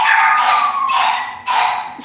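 Several dogs barking inside a house, three loud yapping bursts close by with short gaps between them.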